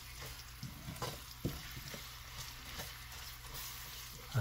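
Garlic sizzles quietly in a pan with ginger while a utensil stirs it in short, scraping strokes, with an even frying hiss underneath; no voices.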